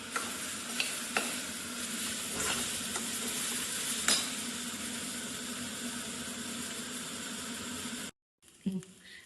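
Steady sizzling of grated fresh coconut stir-fried with beetroot in a pan, with occasional spatula scrapes and taps over a continuous frying hiss, close and even, cutting off abruptly near the end.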